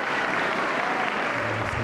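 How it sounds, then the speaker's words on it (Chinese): Pilgrims in the Paul VI Hall at the Vatican give Pope Francis warm applause at a Wednesday general audience, a dense, even roar of many hands clapping that fills the large hall without pause. "在场的朝圣信友们皆以热烈的掌声向他致意"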